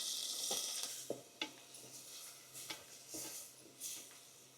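Chopped small onions (shallots) go into a hot pan for a fish kuzhambu, giving a soft, steady sizzle with a few light clinks and stirring scrapes, fairly quiet and close with no talk.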